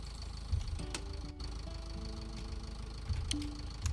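A heavy tractor engine idles in Pure Farming 2018, a low steady rumble with faint mechanical tones and occasional soft knocks, with no one speaking.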